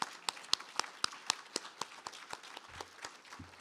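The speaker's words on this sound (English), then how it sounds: "let's have another round of applause." Scattered audience clapping at a faculty presentation, a sparse run of distinct hand claps close by that thins out over a few seconds, with a brief low murmur near the end.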